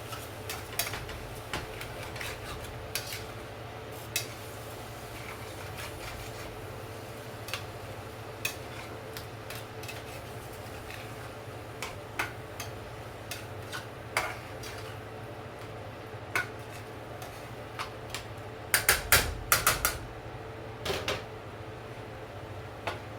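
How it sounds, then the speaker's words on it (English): A spoon stirs a sloppy joe mixture in a pot, making soft scattered ticks and scrapes against the metal over a steady low hum, with a brief louder clatter near the end and no talking. "Stir this around a little bit."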